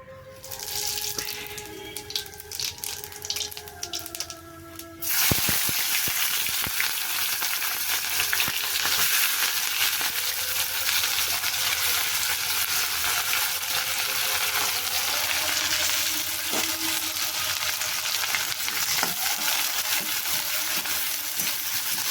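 Frying in hot oil for a bitter gourd and fish curry, starting with clattering kitchen activity and then a loud, dense, continuous sizzle that carries on for a long stretch with occasional faint knocks.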